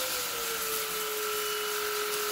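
Silvercrest SHAZ 22.2 C3 cordless handheld and upright vacuum cleaner running in eco mode, a steady close motor whine with a constant pitched hum and airy broadband rush, unbroken throughout.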